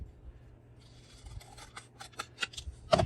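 Scissors snip down a paper journaling card, close and crisp, with a quiet rubbing start and then a run of quick, sharp cuts that speed up toward the end.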